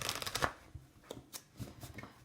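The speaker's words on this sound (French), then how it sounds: "Je remue bien les cartes." Tarot cards being shuffled by hand at close range, a quick run of crisp riffling flutters followed by softer separate shuffles, with no talking.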